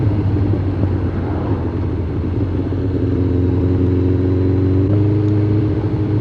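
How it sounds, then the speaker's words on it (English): A Suzuki GSX 600 motorcycle on a cold day, its exhaust giving a steady, loud low rumble with a throaty drone and a slight rise in pitch near the end, heard close and alone. "I just love that exhaust note"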